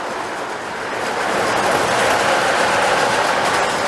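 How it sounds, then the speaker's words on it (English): A model train rolls along a model railroad layout toward the yard, a steady, continuous running rumble that rises slightly in level after the first second and holds, with no talking. "Seeing the trains come up into the yard from here is a really cool shot."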